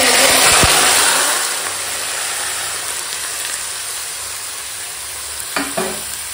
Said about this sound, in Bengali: এখন গোটা গরম মশলা তেজপাতা ফোড়নে দিয়ে দিলাম